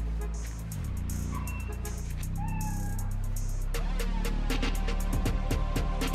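A cat meows repeatedly in the video game Marvel's Spider-Man: Miles Morales, several clear, close meows over low game ambience and a hum.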